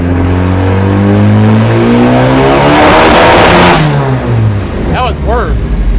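A turbocharged K24-swapped Mazda Miata revs hard on a dyno, its loud engine note climbing steadily in pitch through a long pull, then dropping off with popping and sharp fluttering bursts near the end.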